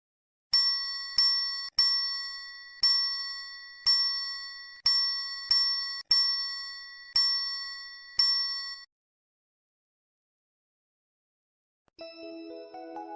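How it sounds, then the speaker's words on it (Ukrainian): A metal triangle is struck about a dozen times, each bright ringing tone decaying quickly; after a pause, a soft tinkling melody plays. "трикутник"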